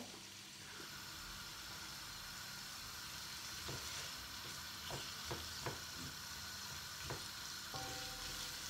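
A Trinidadian vegetable curry with cumin, mustard seed, fenugreek and cardamom cooks in a pan, giving a steady soft sizzle with occasional stirring clicks and scrapes toward the end.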